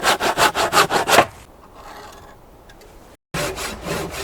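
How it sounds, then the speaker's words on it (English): A manual hand saw cuts timber sections for a natural-wood treehouse cabin, making about eight quick rhythmic rasping strokes, then a quiet pause and a short cut off, before sawing resumes. "Using a manual saw, he carefully shapes the lumber, forming corners, eliminating gaps during assembly."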